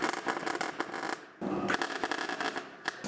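Welding sheet metal to plug holes in a shaved Mustang engine bay: a dense, loud sputtering crackle of a welding bead that runs steadily, stops briefly, then resumes with sharp pops.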